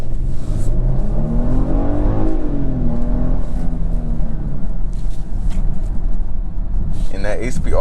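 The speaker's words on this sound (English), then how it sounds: "And that 8-speed automatic, once it finds the gear, it hooks and it goes." A 2022 Genesis GV80 Prestige Signature with an 8-speed automatic accelerates hard in sport mode, a steady loud engine drone heard from inside the cabin, with someone talking over it throughout.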